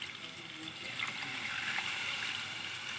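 Water being poured into a cooking pot of chicken soup, a steady trickling, splashing stream heard close and fairly soft for about three seconds with no talking.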